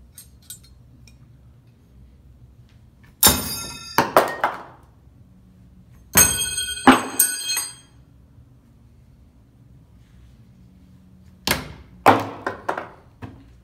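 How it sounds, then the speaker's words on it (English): Butter knives are thrown from a few feet away at a target, making three separate bursts of metallic clanks and thunks as they strike and bounce off, with quiet pauses between. "I'm only a few feet away and these blades are bouncing all"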